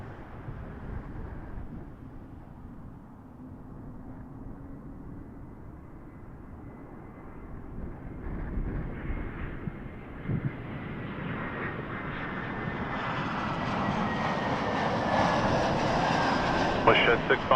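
A distant Air Canada airliner takes off at Toronto Pearson Airport, its jet engine roar slowly building and swelling louder toward the end under steady background rumble.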